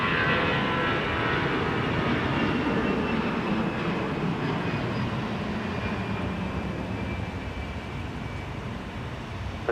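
A jet airliner rolls down runway 12 Right at Minneapolis–St. Paul airport for takeoff, its engines a loud, steady roar heard from a distance that slowly fades as it climbs away.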